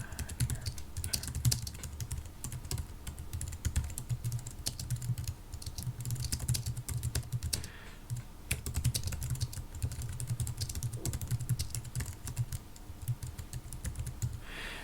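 Fast, steady touch typing on a computer keyboard makes a dense, continuous patter of close key clicks with brief pauses, with no voices.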